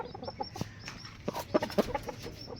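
Aseel hens in a coop in Huzurabad, Karimnagar district, cluck nearby in short, irregular bursts, with a few sharper clucks late on and no talking.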